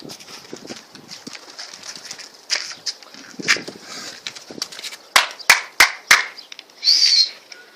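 Pigeons flap their wings several times as they take flight from a loft, a run of sharp, close bursts that arrives after a stretch of quieter rustling and background bird activity.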